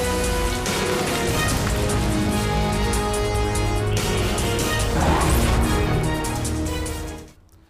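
Heavy monsoon rain pours steadily over a landslide-hit, flooded mountain region, a dense, loud broadband hiss with occasional clatter, continuous until it cuts off abruptly near the end.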